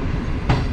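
A train rolls slowly through Sahiwal railway station at night, giving a close, steady rumble with a faint clack of wheels; no one speaks.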